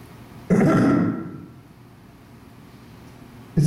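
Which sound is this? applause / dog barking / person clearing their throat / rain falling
person clearing their throat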